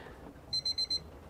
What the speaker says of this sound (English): or that's the alarm sound.